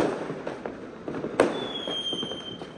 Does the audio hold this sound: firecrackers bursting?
yes